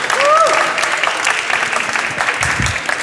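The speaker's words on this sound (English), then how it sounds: "Please also give them a huge applause and welcome them on the stage" An audience applauds a team taking the stage at a conference pitch session, a brief burst of clapping with a voice briefly heard at the start.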